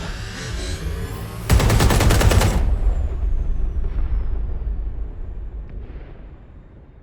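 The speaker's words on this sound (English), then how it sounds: "a series of explosions devastated 3 sites in London" A sudden loud burst of rapid gunfire and blasts erupts after a quieter stretch, then fades into a lingering rumble with scattered distant pops, from explosions at three sites in London in the video game Watch Dogs: Legion.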